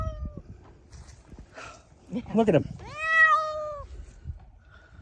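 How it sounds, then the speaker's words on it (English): A cat gives one clear, drawn-out meow at close range after some quieter rustling, while a person talks nearby. "This cat."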